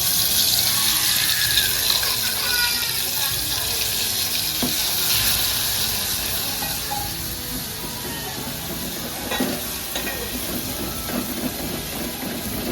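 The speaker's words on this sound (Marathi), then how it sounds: "आता मसाला भाजून घ्यायचा" Masala roasts in well-heated oil in a home kitchen pan for a fish curry, giving a loud, steady sizzle and crackle that runs unbroken with occasional stirring scrapes and no voices.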